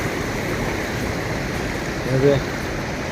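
Waterfall at a village dam pouring steadily, a continuous broadband rush of falling water close by, with a brief voice near the end.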